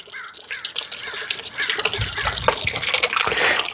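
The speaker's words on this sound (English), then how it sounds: "Now we have a nice little water feature. You guys can hear the sound there." A small fountain trickles and splashes steadily, the flow growing fuller partway through, with a faint bird call early on.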